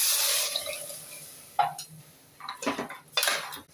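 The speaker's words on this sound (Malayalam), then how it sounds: "ഇനി നമുക്ക് വെള്ളം ഒഴിക്കാം." Water is poured from a glass into rice in a pressure cooker while making prawn biryani, a splashing pour at the start followed by a few clinks of a metal pot and utensils.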